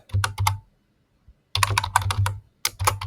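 Computer keyboard typing JavaScript code: close, crisp bursts of rapid keystrokes separated by a brief pause, with no voice over them.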